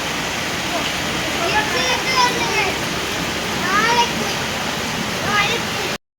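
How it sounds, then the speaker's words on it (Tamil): Heavy rain pours down in a loud, steady wash with no letup, while faint voices and high calls rise and fall in the distance before the sound cuts off abruptly. "எப்படி மழை பெய்யுதுன்னு பாருங்க"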